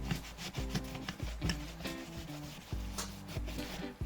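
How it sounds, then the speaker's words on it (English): A brush scrubs hard down inside the channel beneath the barrel of a Crosman 180 air rifle, a close, quiet, rhythmic rasping in back-and-forth strokes. "And then you can get down inside the channel here, scrub that down real good."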